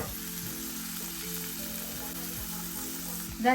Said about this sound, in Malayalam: ഇപ്പോൾ 1 മിനിറ്റ് ഒന്ന് വെച്ചിട്ട് ഒന്ന് റോസ്റ്റ് ചെയ്തെടുക്കുകയാണ് മീഡിയം ഫ്ലെയിമിൽ